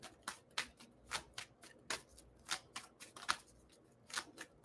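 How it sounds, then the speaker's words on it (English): Tarot cards are shuffled and pulled by hand, a series of about a dozen soft, crisp riffling snaps spaced irregularly, close and quiet with no talking. "Let's go ahead. Let's pull some more cards here."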